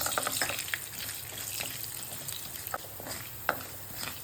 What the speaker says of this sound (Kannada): ಇದೀಗ ಸಾಸಿವೆ ಒಳ್ಳೆ ಸಿಡಿಬೇಕು